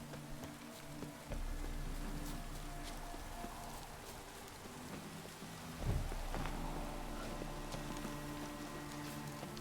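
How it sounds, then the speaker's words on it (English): Rain falling in the video game The Witcher 3: Wild Hunt, a steady, faint patter with low rumbling beneath, joined by a soft thudding hit midway and persisting throughout. "Looks like rain."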